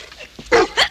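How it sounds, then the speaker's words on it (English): Dogs give two sharp, loud barks in quick succession near the listener, preceded by a softer whine or yip, all within under a second. "Dogs, hush up."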